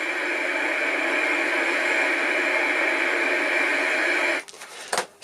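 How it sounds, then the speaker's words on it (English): Steady hiss of white noise from the faulty amplifier of a 1964 IBM 214 portable dictation machine, loud and unchanging, then cut off near the end with a couple of clicks. "all you get is white noise"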